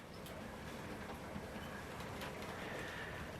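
Hornby West Country Class R2219 Blackmore Vale model locomotive rolling slowly over points, a faint continuous rail rumble with a few light clicks, low and even throughout.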